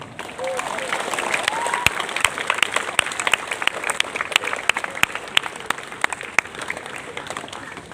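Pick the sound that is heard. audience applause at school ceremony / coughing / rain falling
audience applause at school ceremony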